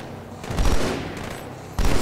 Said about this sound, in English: It's an auto turret.